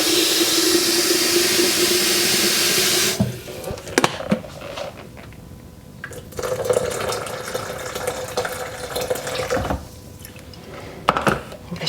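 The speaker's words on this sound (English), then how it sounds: "So I'm just going to add some more water" Water pours from a kettle into a thick brown food mush, starting as a loud steady stream for a few seconds, then giving way to quieter splashes, knocks and handling sounds nearby.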